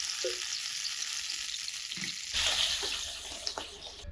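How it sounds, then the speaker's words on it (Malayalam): Water poured into a hot pan after grilling a beef steak, deglazing it for a sauce, with steady broadband sizzling that jumps to a louder, brighter hiss partway through, heard alone at close range. "അതിന് സോസായിട്ട് ഈ പാൻ ഒന്ന് ഡീഗ്ലേസ് ചെയ്തെടുക്കാം."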